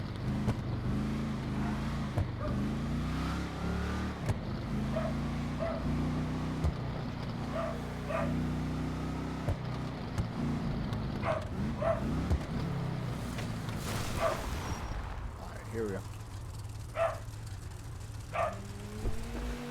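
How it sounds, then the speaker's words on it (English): A dog barks repeatedly in short sharp bursts, somewhat distant, over a steady car engine hum, with a brief spoken remark. "I apologize for the dog barking."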